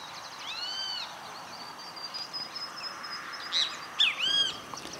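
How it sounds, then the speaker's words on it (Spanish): A rufous hornero (Furnarius rufus), Argentina's national bird, calls in Esperanza, Santa Fe, with a few clear, sharp call notes early on and a louder burst of calls near the end over quiet background. "El hornero, casero o aloncito es el pájaro nacional de Argentina."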